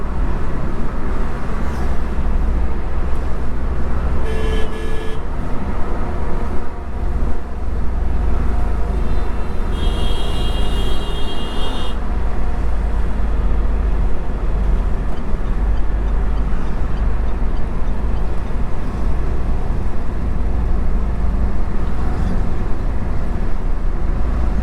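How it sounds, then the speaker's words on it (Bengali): A Tata Tiago hatchback rolls along a road: a constant, loud broadband rumble of engine and tyre noise, with brief higher tones from passing traffic, and no talking. "রাস্তা জুড়ে গাড়িটা চলছে ভাই।"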